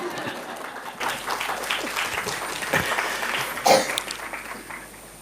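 An audience at a live talk event for an anniversary celebration applauds after a speaker's introduction. The clapping rises and swells over several seconds, with a few louder peaks and faint voices mixed in.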